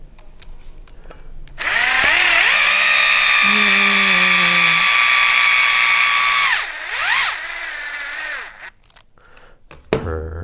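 Power driver threading a screw into plastic on an RC car build, a close, loud whirring motor that ramps up, holds steady for several seconds, dips and restarts briefly, then stops.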